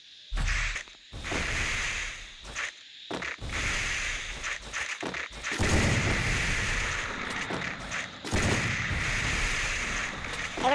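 AWM sniper rifle fire in a mobile battle game, several sharp shots with whooshing and impact noise over a dense, busy game soundscape.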